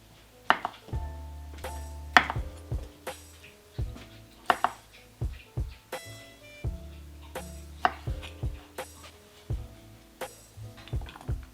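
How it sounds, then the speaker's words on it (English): A knife cuts tomatoes in half for a green onion, radish and tomato salad, with sharp repeated chops and knocks on a board, plus light clinks of dishes, steady and close with no talking. "Start by cutting the tomatoes just in half."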